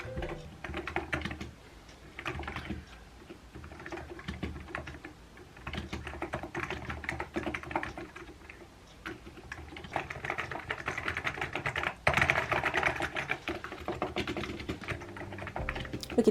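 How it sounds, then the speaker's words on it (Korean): Steady typing on a freshly swapped computer keyboard, used for writing a digital diary at home: dense, fast clicking keystrokes that continue throughout at a moderate level, with occasional louder bursts and no voices. "요즘에는 키보드를 바꾸고 나서 타자 치는 게 너무 재밌어가지고"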